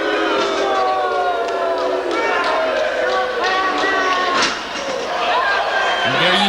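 A wrestling arena crowd reacts loudly to an elimination during a battle royal match, a dense roar of many voices with rising shouts and whistles, steady and close, with a commentator's voice running under it.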